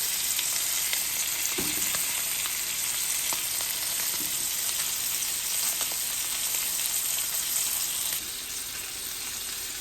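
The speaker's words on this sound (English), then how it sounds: "We're gonna let this sear for about 4 to 5 minutes" Ribeye steak searing indoors in a hot pan, a loud, steady, close hiss of frying fat that runs unbroken throughout with scattered small pops and crackles, easing slightly in level toward the end, no voices.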